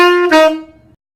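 Tenor saxophone playing a short phrase from a middle-school jazz etude, two quick connected notes with the second lightly tongued, clear and close, fading out within a second.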